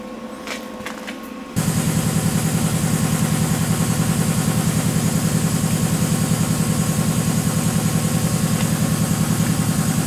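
A John Deere Model 49 snow thrower engine, being modified, starts after a short quiet moment and then runs at a steady idle, with a loud, even, rapid low chugging that holds close for the rest of the span.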